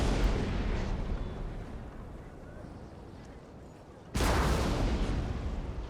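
Artillery battery firing in Napoleon: Total War: a dense, rumbling roar of cannon fire, loud at first and fading, then a sudden heavy boom bursting in near the end and carrying on loudly.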